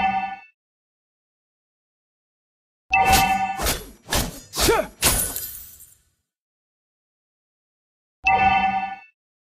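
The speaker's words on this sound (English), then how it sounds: "Our turret has been destroyed." A turret being destroyed in the video game Mobile Legends: a cluster of four or five heavy crashing, breaking thuds in quick succession, framed before and after by short tonal game chimes.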